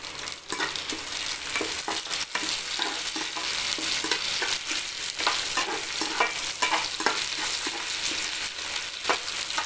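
Onion, dried red chilli and curry leaves sautéing in a pan, a loud continuous sizzle with frequent stirring scrapes and clatters, close and alone.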